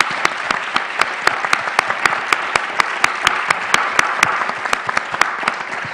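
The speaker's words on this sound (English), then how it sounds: "please let's give a hand of applause to our participants here" Sustained audience applause at a panel session on governance in Brazil, dense steady clapping from a sizable crowd with sharper individual claps standing out throughout.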